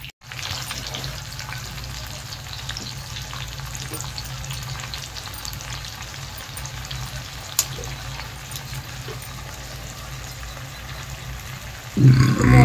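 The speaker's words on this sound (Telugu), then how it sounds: "వంకాయలు కూడా వేసేస్తున్నాను, వీటితో పాటు మగ్గిపోతాయి." Eggplants for vankaya pulao cook in a pot with a steady, even sizzle and bubbling hiss that runs close and unbroken the whole way through, ending with a louder clatter at the finish; no one talks.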